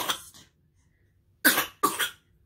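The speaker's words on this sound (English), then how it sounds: "Oh, little cough." Close and quiet, a person coughs once, then twice more in quick succession after a short pause, small dry bursts in an otherwise silent room.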